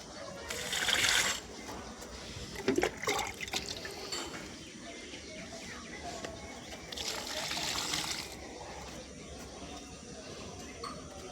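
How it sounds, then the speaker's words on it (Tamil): Water trickles and splashes steadily for a long stretch while plants are watered, with a couple of louder gushing pours and some soft handling noises. "அது வரைக்கும் தண்ணி ஊற்றுவோம் செடிக்கு."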